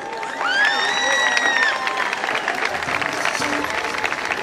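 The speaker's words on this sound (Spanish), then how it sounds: "Los aplausos bien fuerte" An audience applauds at a Carnaval 2017 presentation in an amphitheatre with a percussion band, the clapping and crowd noise swelling under a held electronic tone and a loudspeaker voice before settling into steady applause.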